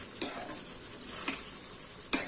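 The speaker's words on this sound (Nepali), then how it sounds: "पनिर राखिसकेपछि हामीहरू यसरी चलाउँदै केही समय पकाउनु पर्छ" Paneer and peas frying in a pan while being stirred: a soft, continuous sizzle broken by three sharp scrapes of the spoon against the pan, quiet and close, with no talking.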